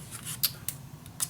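Scissors cutting a small piece of paper for a mini scrapbook album, a few quick, crisp snips close to the microphone over a low background hum, no talking.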